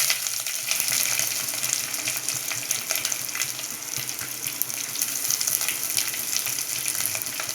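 Onions frying in hot oil in a pan for a broccoli and peas curry, giving a loud, steady, close sizzle that hisses without a break and has no voices over it.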